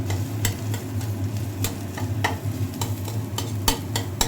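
Garlic sizzles in hot oil while being stirred, a bubbling fry beneath repeated sharp scraping strokes of a spatula against the pan at an uneven rhythm.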